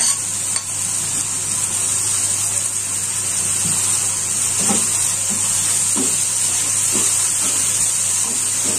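Egg balado sambal being stirred in a frying pan, a steady bright sizzle running throughout with soft scraping strokes of the spatula recurring near the end.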